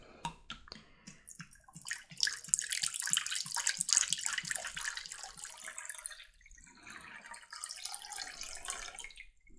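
Water pours and splashes from a large leather jackware bottle made for reenacting, emptying about two quarts. A few drips come first, then a steady, fairly loud gush lasts several seconds before trailing off.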